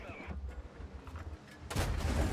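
Tank cannon fire in World of Tanks, the Black Prince battle: muffled booming shots and rumble through the first part, then a loud, broad blast near the end that holds to the close.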